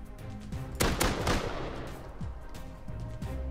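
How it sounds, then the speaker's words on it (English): Gunfire in the multiplayer survival game Rust: a few loud, close sharp shots, then fainter scattered shots from farther away. "There's a lot of shots going on."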